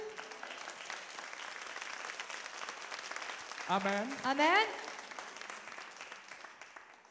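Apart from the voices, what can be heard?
church congregation applauding Jesus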